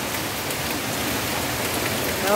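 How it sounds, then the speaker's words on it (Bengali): A heavy, steady downpour with constant hissing rain on surfaces, dense and unbroken throughout. "ভালোই জোর বৃষ্টি হচ্ছে"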